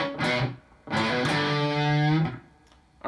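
Electric guitar phrases cut off with hard staccato stops, two loud bursts of notes each ending abruptly, with only a faint, subtle reverb tail audible in the brief gaps.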